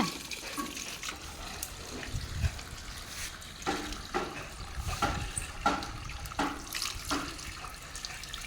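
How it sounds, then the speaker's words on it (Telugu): Water pours steadily into a plant pot, a soft, continuous splashing with occasional louder gurgles, fairly quiet and close. "ఇంకా నిండని కుండి నిండా దాకా పట్టు మంచిగా"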